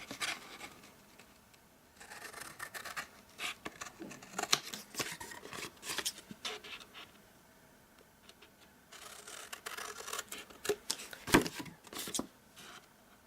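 Scissors snip through a cardstock panel while making an elf box, coming as close, crisp bursts of cutting and rubbing that start and stop across the stretch, with quiet pauses between.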